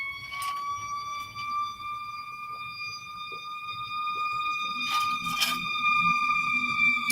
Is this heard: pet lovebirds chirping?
no